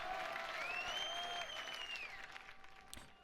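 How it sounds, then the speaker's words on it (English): Crowd applause on a live recording, clapping fading under lingering sustained musical tones and electronic glides, fairly faint and receding toward the end. "Hear the applause."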